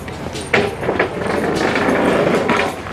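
A train at the Texas Transportation Museum rolls along its rails with a close, rumbling clatter of wheels and a few sharper knocks, steady and fairly loud, with no talk.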